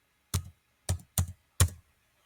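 Four distinct keystrokes on a computer keyboard entering an AutoCAD command, crisp close clicks in a quick uneven rhythm against near silence.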